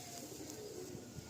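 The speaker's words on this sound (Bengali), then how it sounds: "এটা নর পায়রা।" A male pigeon cooing faintly in a pigeon loft, soft low murmuring coos under quiet background hiss.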